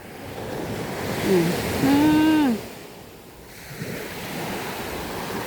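Sea waves wash continuously at a beach in Pangasinan, a broad near roar of surf with wind, and a short voice sound rises briefly over it early on.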